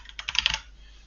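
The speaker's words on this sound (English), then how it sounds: "we can just start typing" A short burst of typing on a computer keyboard, a quick run of close, crisp key taps lasting about half a second, with no talk.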